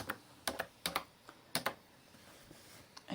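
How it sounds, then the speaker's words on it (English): Keys on a computer keyboard are tapped in short clusters of two or three clicks with pauses between, close and quiet, while text is entered into Canvas Workspace design software. "Okay, I'm going to type the word"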